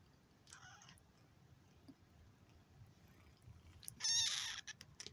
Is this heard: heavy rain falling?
no